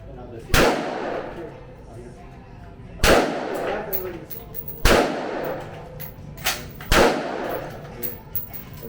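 Gunshots at an indoor shooting range in Gdansk, Poland: five sharp, loud reports spaced a second or two apart, each with a short echoing tail, with faint voices between shots.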